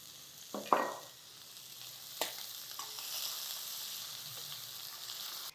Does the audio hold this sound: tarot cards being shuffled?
no